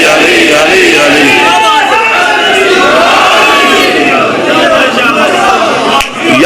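A large outdoor crowd at a religious gathering chants slogans in loud unison, the massed voices sustained and close throughout, with a brief dip near the end.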